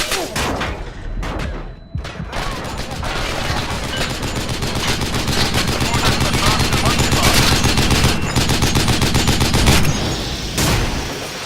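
Gunfire in the video game Battlefield Iraq: rapid bursts of automatic weapon fire crackle loud and close, nearly continuous with brief gaps, mixed with sharper single shots.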